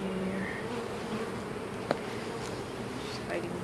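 A dense, steady hum of many honey bees buzzing close by in an open hive, continuous throughout with a brief click partway through.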